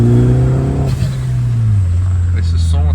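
A Peugeot 208 GT with the THP engine and about 180,000 km revs loudly up close, a strong rising engine note that then settles, with a voice briefly over it.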